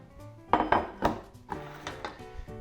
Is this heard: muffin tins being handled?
yes